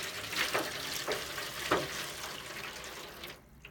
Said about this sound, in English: I'm going to add the water to the pan.